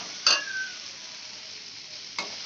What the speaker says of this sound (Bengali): বরবটি ভেজে নিচ্ছি